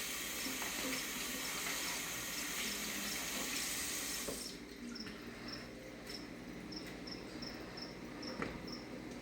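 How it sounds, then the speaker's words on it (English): Cold tap water runs steadily from a faucet into a sink as raw chicken tenders are rinsed in a home kitchen, a continuous close splashing that eases off partway through, with faint cricket-like chirps in the background. "and then I just rinse them off with a little bit cold water."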